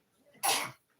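A single sharp sneeze bursts out close by, brief and forceful, after a faint intake of breath.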